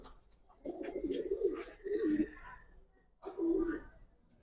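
Giribaz racer pigeons coo nearby in three distinct bursts of deep, rolling coos separated by brief pauses.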